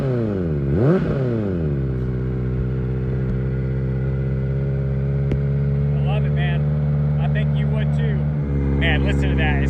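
A Kawasaki ZX-4RR motorcycle with a Yoshimura slip-on exhaust fires up with a quick rev, then settles into a steady, close, loud idle with a dense harmonic drone and a few small clicks and clatters.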